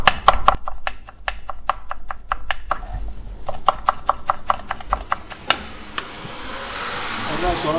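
Fresh parsley chopped with a knife on a board, a fast, even run of sharp close taps in quick bursts with short pauses, ending in a softer rustle, while someone talks.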